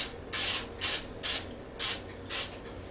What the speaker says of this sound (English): I'm using this Pam to grease my pan with this Pam Original